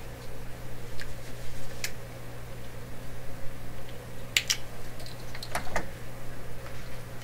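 Cutters snip the grid cap wire on a Canadian General Electric K60 radio chassis with a few sharp, isolated clicks spread across a quiet background hum, two of them close together.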